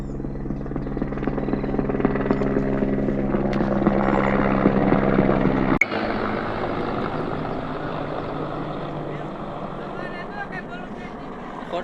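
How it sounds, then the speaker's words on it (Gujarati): A helicopter passing overhead, a heavy low rumbling drone that is loudest early on and then drops away abruptly, with people talking over it. "તો જો થોડીક વાર થઈને ત્યાં પાછું હેલિકોપ્ટર નીકળ્યું"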